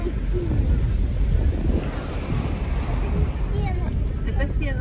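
Sea waves and surf at Lady's Mile Beach make a loud, continuous wash of breaking water, heavily buffeted by wind noise on the microphone. A few faint voices and calls sit beneath the roar.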